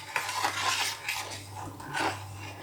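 A metal spoon clinks and scrapes against a pot of milk as a heaping spoonful of sugar goes in, several light rattling contacts over a steady background hum, with no talking.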